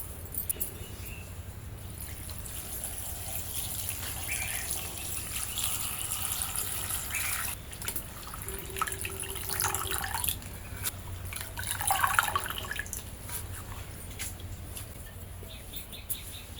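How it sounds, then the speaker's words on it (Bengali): Freshly picked dhenki shak greens are washed in water, giving soft splashing, dripping and swishing throughout with a brief louder slosh near the end. "এখন শাকটা আমরা ধুয়ে নিব এবং কুটে রান্না বসিয়ে দিব।"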